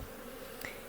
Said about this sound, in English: I'm literally going to dump these bees that are left.